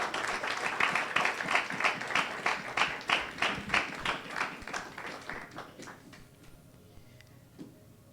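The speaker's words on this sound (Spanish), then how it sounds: "¿Por qué no le das un fuerte aplauso a nuestro Dios?" A church congregation claps together in a steady rhythm, the beat strong at first and then fading away over several seconds.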